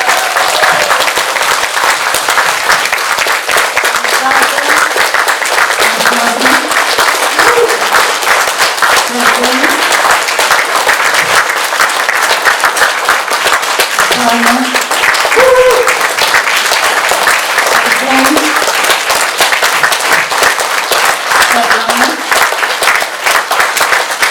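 Sustained applause from a seminar audience in Alushta, dense steady clapping filling the room throughout, with faint voices and tonal sounds surfacing underneath.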